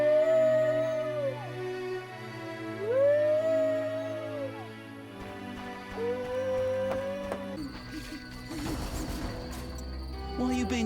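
A dog howls in the outskirts of a village in The Witcher, long rising and falling wails repeated several times over a soft musical backdrop, fairly close, then giving way to clattering noise near the end.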